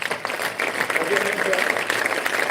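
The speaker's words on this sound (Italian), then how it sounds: "Volevo che facessimo un grandissimo applauso" An audience at a regional volleyball celebration applauds in memory of Michele Patinato, dense sustained clapping that swells after a brief start and stays loud and steady to the end, with voices mixed in.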